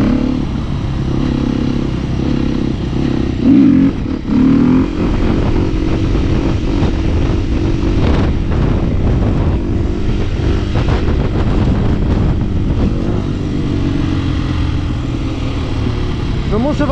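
A tuned 50cc motorcycle engine runs loud and continuous near the microphone, its buzzing drone rising and dipping with revs, while a voice talks over it.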